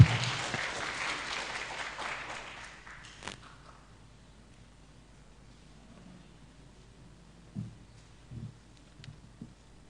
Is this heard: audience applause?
yes